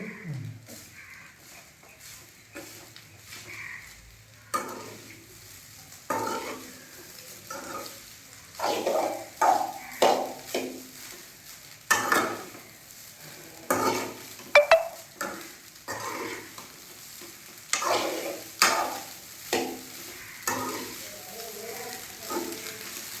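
Food in a pan is stirred with a spoon: irregular scraping strokes come in bursts over a soft sizzle, close by and with pauses between them.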